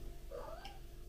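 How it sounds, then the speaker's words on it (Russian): A cat gives a single short meow, faint and somewhat distant, over a low steady background hum. "Кошка."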